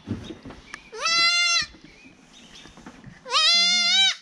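Goats at a weigh-in give two loud, drawn-out bleats close by, the first short and wavering, the second longer and strained, with quiet handling noise in between.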